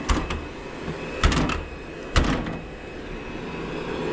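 A tractor cab door with a filtered air blower running thuds and rattles shut a couple of times, sharp knocks over the steady whoosh of the fan close by.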